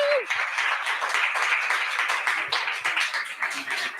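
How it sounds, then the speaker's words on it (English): An audience at a Nerd Nite talk event in Okinawa claps steadily for the evening's speakers, a dense round of applause that holds for several seconds. "Can we give them another round of applause?"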